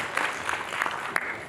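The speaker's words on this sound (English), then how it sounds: "So again, a clap for him." An audience at the Nairobi Marketers Nite event clapping for a speaker, a brief burst of scattered hand claps at moderate distance with a murmur underneath.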